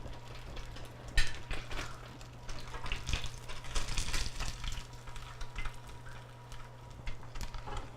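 Tofu deep-frying in a commercial fryer, a continuous bubbling hiss of hot oil with pops and crackles swelling and easing throughout, close and moderately loud, no speech.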